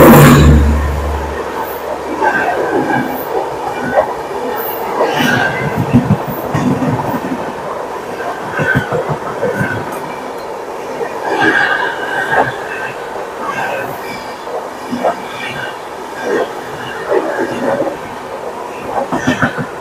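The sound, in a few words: Dibrugarh Rajdhani Express train 12424 passing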